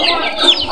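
Chickens kept as backyard pets clucking and chattering together close by, a short dense burst of overlapping bird calls.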